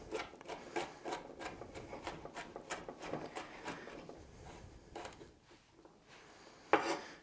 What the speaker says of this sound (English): So these smaller ones I just cut into little slices and then run my knife through.